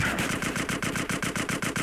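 Rapid automatic gunfire in the video game GTA San Andreas, a fast, even burst of about a dozen loud shots in a steady rhythm.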